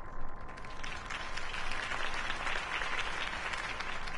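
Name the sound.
crowd applause in the video game Batman Telltale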